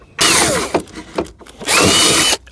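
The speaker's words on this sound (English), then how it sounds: "If I just drill a hole straight down" A power drill bores a hole straight down into fiberglass on a rat rod car, two loud whining bursts close up with a short gap of scraping and handling between.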